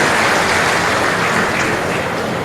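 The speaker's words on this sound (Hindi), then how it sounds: "उनका भी तालियां बजा के स्वागत करें" Crowd applause welcoming a speaker at a political rally in Gwalior, a dense, steady clatter of many hands sustained loudly throughout.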